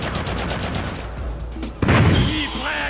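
A nectar grenade and gunfire in the video game Haze: a quick burst of rapid shots, then a loud, close blast with a rumbling tail and a brief rising whine.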